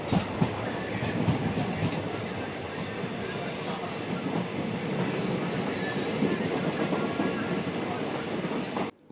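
Inside a Coimbatore–Tiruchendur passenger train, a continuous loud rumble of wheels on track fills the space, with rhythmic clickety-clack and faint voices in the background.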